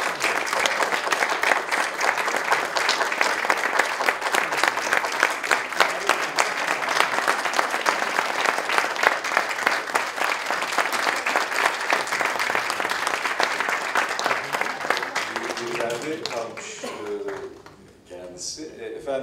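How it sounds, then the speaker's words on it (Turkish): Audience applause for a guest soloist at a classical song talk event, dense sustained clapping that fills most of the stretch before thinning out and fading near the end, where a voice begins over the last scattered claps. "değerli artist Uğurtan İdil'i de burada alkışla"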